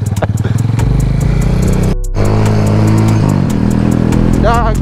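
A motorcycle engine rumbles loud and close on a Jamaican street, its pitch shifting as it passes, with a brief break midway and people talking over it.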